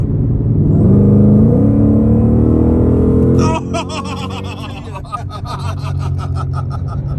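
A 2020 Shelby Cobra GT500 engine climbs in pitch with rising harmonics over about three seconds, then settles into a loud, steady rumble with rapid pulsing, heard from inside the car with no one talking.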